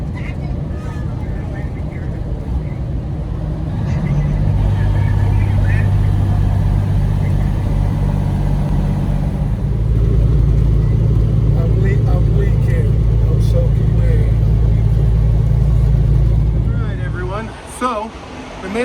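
Trucks running with engines idling at a truck stop in Carlisle, Pennsylvania, a loud continuous low diesel rumble that fills the whole stretch, with a person talking over it.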